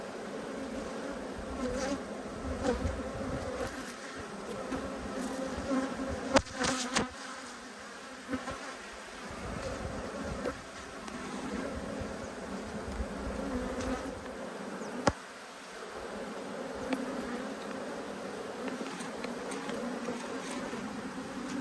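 A steady, dense buzzing of many honey bees close by, a continuous droning hum with a few brief knocks and shifts in loudness.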